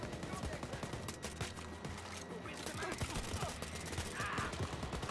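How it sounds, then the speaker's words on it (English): Rapid, loud gunfire from dual pistols in Wolfenstein: Youngblood, with dense overlapping shots running throughout amid other game noise. "Fucking dual pistols are powerful"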